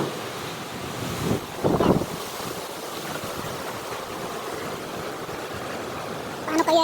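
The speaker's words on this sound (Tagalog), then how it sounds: "Oh, grabe hangin." Strong typhoon wind during Typhoon Ulysses in Nueva Ecija roars in a steady broadband rush, with a louder gust buffeting the microphone midway and another near the end, no voices heard.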